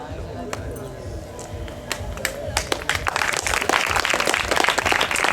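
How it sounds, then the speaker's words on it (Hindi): An audience at a stage event honouring a guest breaks into applause, with scattered claps and background murmur building into fuller, louder clapping over the last few seconds. "जी का जोरदार ताली से स्वागत है।"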